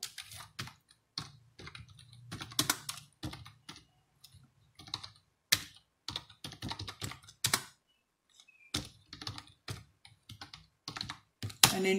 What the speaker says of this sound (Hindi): तो यहाँ पर थोड़ा सा लंबा टाइप करना है।